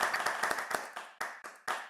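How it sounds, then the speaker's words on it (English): Audience applause at a storytelling talk during a cultural conference, a short burst of scattered clapping from a modest crowd that thins and fades in uneven waves. "If we could give them a round of applause."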